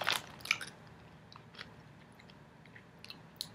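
Pizza-flavored Bissli wheat snacks crunch between the teeth in a few close, sharp bites. Quieter chewing follows, with pauses in between.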